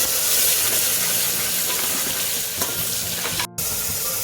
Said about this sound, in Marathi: आता या तेलामध्ये मी मसाला टाकणार आहे परतून घेणार आहे